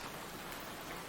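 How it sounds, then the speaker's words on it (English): Heavy rain pours down in an anime episode, a dense and steady hiss of drops that fills the scene, loud and continuous with no voices. "the rain got so loud."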